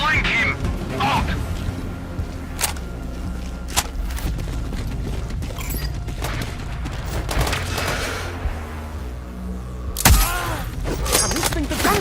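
Gunfire in the video game Sniper Ghost Warrior Contracts 2: scattered sharp shots and impacts over a constant hum of battle ambience, with a louder burst near the end and game radio chatter mixed in.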